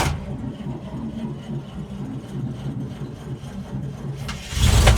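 Small engine being cranked on full choke with a little throttle, a rough, low churning rumble that grows louder and fuller toward the end as it tries to catch.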